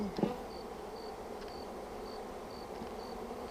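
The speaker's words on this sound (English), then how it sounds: "Hopefully didn't squish any bees, so you can see them here working" Honeybees being hived in April hum in a steady low drone near the open hive, with a brief louder buzz close by at the start and faint intermittent high chirps over the constant hum.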